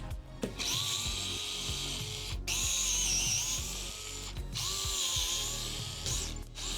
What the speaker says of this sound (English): I'm going to use my handy dandy gyroscopic screwdriver from DeWalt to take off these screws on the plate